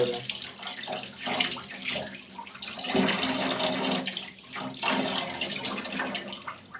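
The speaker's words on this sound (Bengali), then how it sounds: "আলু দিলাম ভালো করে ধুয়ে" Potatoes being washed in water, with steady running and sloshing water like a tap filling a sink, continuous and fairly close, with no talk.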